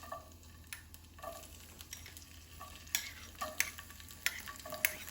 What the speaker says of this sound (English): in goes my garlic, and you can hear that sizzle.